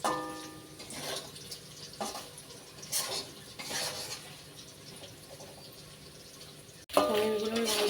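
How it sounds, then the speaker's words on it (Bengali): Paneer fries in oil with a soft bubbling sizzle and stirring scrapes of a spatula against the pan, then a sharper, louder clatter near the end. "ভেজে নিচ্ছি"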